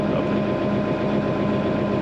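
A Steiger Cougar tractor engine idles with a steady, heavy, low rumbling drone, close and constant, with no voices over it.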